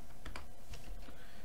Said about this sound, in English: I'm always typing hello.